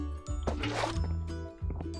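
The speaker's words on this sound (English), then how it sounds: "Now I can bucket the water, place it here, bucket the second water, and place it here." Water placed from a bucket in Minecraft Sky Factory 3: a soft liquid splash and squishy gurgle, a few brief wet bursts over a low game background.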